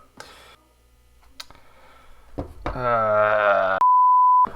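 A vlog camera with a dying battery gives one steady, sustained electronic beep near the end, after a stretch of low vocal sounds and faint handling noise.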